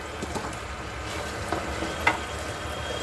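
Dhoka pieces frying in spiced masala that has cooked down and released its oil, giving a steady close sizzle with occasional stirring scrapes and no talk.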